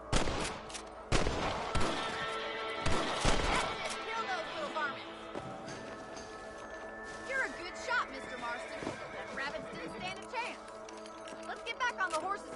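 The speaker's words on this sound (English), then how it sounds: "You're better at shooting rabbits than outlaws, I see." Gunshots ring out while shooting rabbits in Red Dead Redemption on PS5, several sharp loud cracks early on followed by softer game ambience, hoofbeats and someone talking over it.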